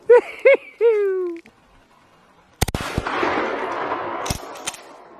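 A gun fires during a ruffed grouse hunt in the North Maine woods. After a few rising whistled calls, sharp blasts crack out, then a rush of broadband noise follows and a second pop comes later.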